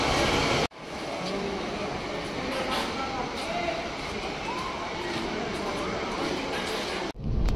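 A moving train gives off a continuous rumbling roar with a rhythmic clatter, heard close and fairly loud from start to finish. Voices murmur faintly underneath, and the sound cuts off abruptly near the end.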